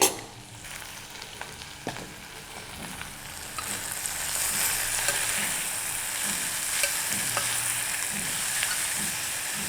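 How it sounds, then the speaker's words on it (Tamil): Onions sauté with turmeric and salt in a pan for dal, a continuous close sizzle and frying hiss with light stirring scrapes that grows fuller partway through, no voices. "வெங்காயம் கொஞ்சம் நல்லா வதங்கட்டும்."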